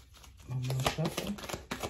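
Cards being shuffled in short riffling bursts, close by, while a person speaks over the shuffling.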